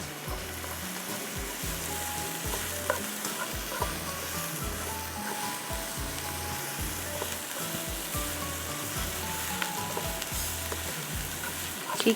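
Onion, ginger and five or six small whole hot green chillies fry steadily in a pan, a continuous close sizzle with scraping stir strokes throughout and no talk.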